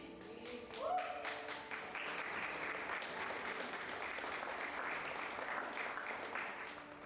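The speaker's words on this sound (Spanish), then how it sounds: "Gracias por aplaudir" A church congregation applauds during a sermon by Pastor Marco Amaya, with a short spoken phrase at the start before sustained, fairly quiet clapping fills the rest.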